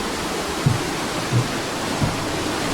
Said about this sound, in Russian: Это вот этот водопадик.